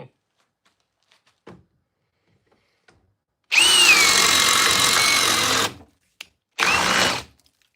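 A power drill driving a Bosch or Jorgensen paddle bit through wood, a loud close whirring run of about two seconds that labors toward the end, then a shorter second burst after a brief pause.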